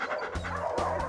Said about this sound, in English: Bobo and Cece appear to be Alaskan Malamutes